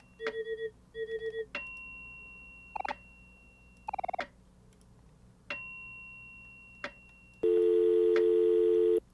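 Telephone in the video game OMORI, electronic ring tones in short bursts and separate beeps, ending in a loud sustained ringing tone, with no talk.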